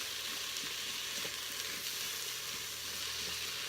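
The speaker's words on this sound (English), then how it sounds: "you can see it is doing its job sauteing" A spicy Italian stew sautés in a pot with a dense, even sizzle that holds steady throughout, close and alone.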